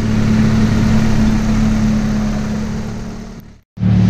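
A 1998 Honda Accord engine idles while warming up, a loud steady low hum with a constant drone that fades slightly, cuts out briefly near the end, then resumes.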